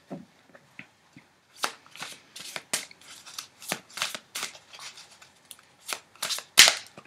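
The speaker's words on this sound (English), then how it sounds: "Let's pull some clarifier cards." Tarot clarifier cards are shuffled in a quick series of crisp, riffling bursts, close and fairly loud, with brief pauses between runs and a sharp snap near the end.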